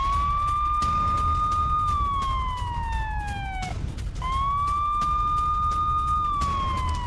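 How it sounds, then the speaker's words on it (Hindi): Wailing emergency sirens sound over Tel Aviv during a missile attack, rising and falling in long loud sweeps that repeat twice against a steady roar of background noise, with no voices. "तेल अवीव में लगातार सायरन बज रहे हैं।"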